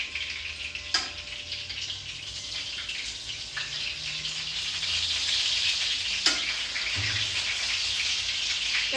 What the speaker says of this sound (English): waiting for it to fry up where it's brown enough